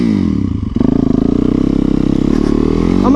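A supermoto motorcycle engine revs close by, a loud, pulsing single-cylinder throb that steadies and rises in pitch over a few seconds.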